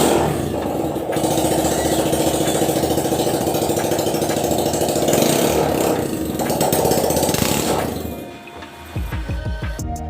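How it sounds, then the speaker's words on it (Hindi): A motorcycle engine runs loudly and close with a steady rough drone, then cuts out near the end, leaving a few scattered sputters. "ये मैं इसकी बाइक की आवाज़ के बारे में ही पूछ रही थी कि ये कैसी आवाज़ है"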